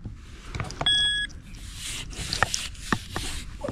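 A metal detector gives a short steady electronic beep, followed by soft rustling and scraping nearby, with no talking.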